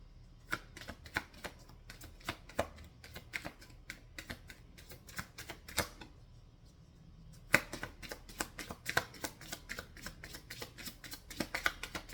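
Tarot cards being shuffled and drawn close by, with rapid bursts of crisp riffling clicks, a brief pause, then another long run of quick card snaps. No one speaks.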